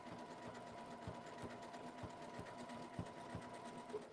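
A sewing machine stitches piping onto an apron with a fast, steady run of soft mechanical clicks and a low hum. The sound is close but quiet and carries on alone, with no voice over it.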